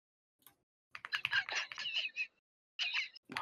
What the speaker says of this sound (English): It sounds like the keyboard from like the first gen iPhone.